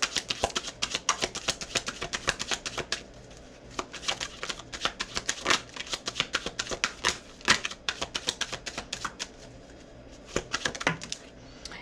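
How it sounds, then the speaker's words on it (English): Tarot cards are shuffled by hand in a rapid series of crisp riffling clatters and taps, close and fairly loud, with short pauses between bursts. "And then I'm going to do another shuffle."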